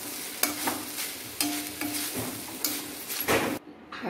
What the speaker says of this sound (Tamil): ரைஸ் எல்லாம் போட்டு நல்லா கலந்துட்டேன்